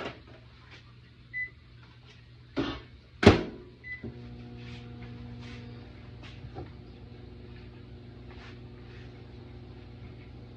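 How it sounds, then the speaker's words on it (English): A few clicks and a sharp thump, like a door shutting, then a microwave oven starts and hums steadily and quietly. "I'm going to put it in the microwave for 30 seconds."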